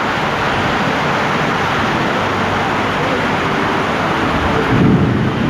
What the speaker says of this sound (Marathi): कसला पाऊस पडतोय बघा.